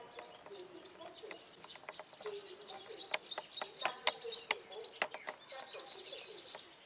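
Caged sunbirds at a home in the Mekong Delta chirp and twitter continuously in high, rapid trills and tweets, close and clear, with faint clicks and knocks in between.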